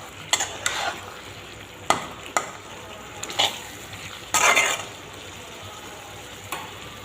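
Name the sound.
stirring spices frying in a wok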